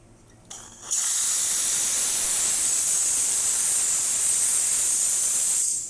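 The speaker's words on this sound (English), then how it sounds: "And I'll show you the steam." Steam wand of a Pasquini Livia 90 espresso machine, a machine that won't build pressure, opens after a brief click into a loud, steady hiss that runs unbroken for about five seconds before cutting off, with no talk.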